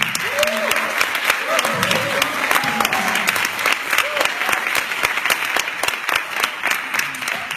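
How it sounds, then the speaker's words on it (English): A group applauds itself at a student gathering, with dense clapping running throughout, a few voices calling out, and mingled talk and background music underneath. "don't we all give ourselves a round of applause"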